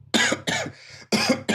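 Close, loud coughing from a sick person: two sharp coughs, a pause with faint background, then another cough and the start of a fourth, no talk.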